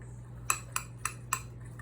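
A metal fork strikes a bowl four times as butter and flour are worked into a slurry, making sharp, evenly spaced clinks up close over a low steady hum.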